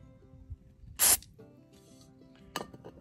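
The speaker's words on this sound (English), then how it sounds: "we'll put a little bit of electrical cleaner on these contacts" Electrical contact cleaner sprays onto the contacts of a Miele dishwasher in two short hissing bursts, a louder one near the start and a briefer one later, with quiet handling between them.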